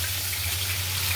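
Water is poured into a pan of cooking hilsa fish, making a brief, steady gushing splash against a low background hum.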